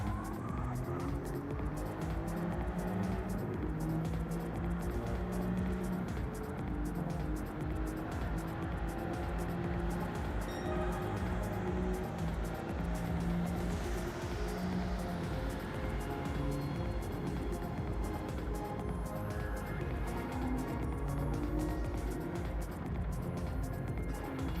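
An Alfa Romeo Giulia GTAm race car in an Alfa Romeo GT Cup race at Lago Maggiore charges through the final corner, its engine a continuous, loud, rasping drone with gear changes and some tyre noise throughout.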